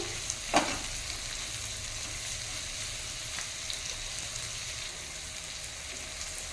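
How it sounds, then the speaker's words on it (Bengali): Prawns frying with ginger and garlic in a pan for a spicy prawn oil curry: a continuous close sizzle with one sharp clatter near the start, no voices. "চিংড়ি মাছটা এই আদা রসুনের সঙ্গেই ভাজা ভাজা করে নিতে হবে"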